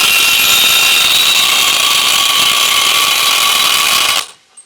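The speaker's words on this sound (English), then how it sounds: "Using the large 24mm long socket with the large impact wrench, remove the lower control arm ball joint retaining nut." A large impact wrench with a 24mm long socket spins off the lower control arm ball joint retaining nut on a Dodge Ram, a loud steady whir held for about four seconds before stopping abruptly.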